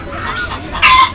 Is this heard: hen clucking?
yes